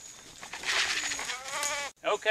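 Goats being moved to a new paddock in the woods give out wavering bleats, a few overlapping calls close by, ending in a short sharp bleat after a brief pause.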